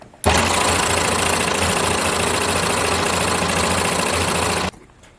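A Babylock Enlighten serger running at speed, a loud, steady, dense mechanical whir that starts abruptly, holds for about four seconds, then stops sharply, close to the machine.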